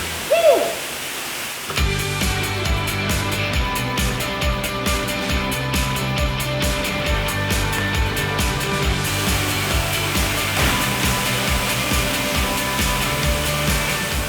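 Steady, broadband rushing of the Waimarang waterfall on Sumba, Indonesia, fills the scene, loud and constant, after a brief quieter moment at the start.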